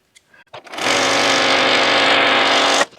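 Sewing machine stitching a quilt border, a loud continuous motor whir running steadily for about two seconds after a few small clicks and taps, then cutting off sharply.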